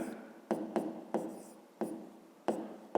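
Pen strokes writing an equation by hand on paper, close and crisp, with sharp taps and short scratchy strokes repeating at an uneven pace, no talking.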